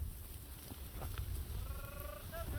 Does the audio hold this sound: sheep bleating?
yes